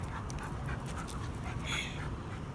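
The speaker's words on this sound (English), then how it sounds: "We found a dog." A dog pants steadily and fairly close, with quick rhythmic breaths over a soft, constant background hiss.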